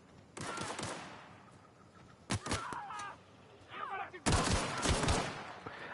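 Gunfire in the video game The Outer Worlds, several loud bursts of rapid shots with a brief quieter gap between them, close and punchy, with faint voices.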